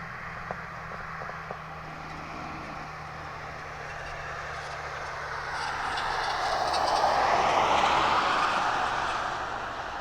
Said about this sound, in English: I believe that's our DHL taxiing down